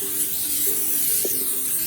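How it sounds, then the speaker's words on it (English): Pam cooking spray misted into a large cast iron skillet, a steady close hiss running the whole time with a brief louder burst partway through. "I'm gonna take my Pam spray and"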